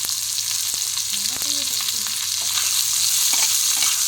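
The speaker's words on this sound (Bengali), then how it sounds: "এরপর আমি পেঁয়াজটাকে খুব ভালো করে ভেজে নেব" Finely chopped onion fries in hot oil with cumin in a pan for paneer curry, giving a steady, bright sizzle with occasional soft stirring scrapes and small pops.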